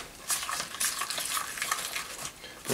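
Sand being stirred and scraped for a rubble-pile terrain base, a soft gritty rustling and scratching that comes in short uneven strokes at close range.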